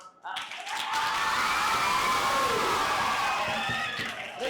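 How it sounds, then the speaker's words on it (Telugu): An audience at a Baptist church Christmas celebration applauds in a steady, sustained burst of clapping that runs for several seconds, with excited voices and cheers mixed into the crowd noise. "మీరందరూ గట్టిగా చప్పట్లు పెడదామా?"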